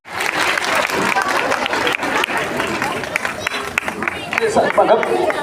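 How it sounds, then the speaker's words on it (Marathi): Women at the last day of a garba workshop applaud together, a loud, sustained wash of many clapping hands close by, mixed with crowd chatter and voices throughout. "शेवटचं सर्वांनी टाळ्या वाजवा"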